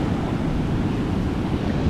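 Ocean surf breaking on a beach at Nusa Penida, a steady broadband wash of waves mixed with gusting wind buffeting the microphone, loud and continuous with no talk.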